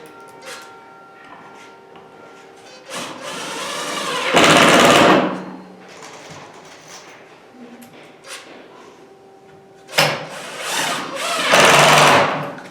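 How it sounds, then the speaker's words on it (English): A power screwdriver drives screws into parts of a folding table in two loud bursts, with quieter handling sounds between them. "so I'm just going to screw it in"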